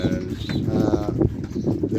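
Pigeons in a loft make soft cooing and rustling sounds among general shuffling and movement, a busy, close, continuous murmur with no voices.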